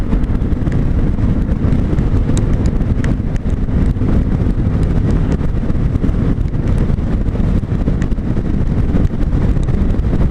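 A Yamaha SMAX scooter cruises at highway speed, just under 50 mph near 6,000 RPM, its steady engine drone thoroughly buried in loud, continuous wind buffeting on the microphone throughout.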